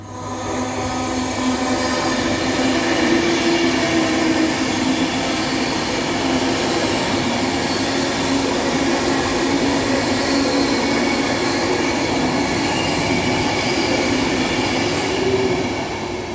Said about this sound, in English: And here comes my train.